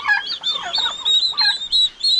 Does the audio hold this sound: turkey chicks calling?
yes